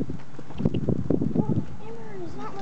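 A horse ridden bareback outdoors plods with soft, uneven hoof clops under wind noise, and a few vocal sounds rise near the end.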